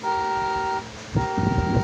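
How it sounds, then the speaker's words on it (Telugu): A Mahindra Thar's car horn sounds in a sustained steady tone, breaks off briefly, then sounds again with some rumbling underneath. "ఇది హారన్"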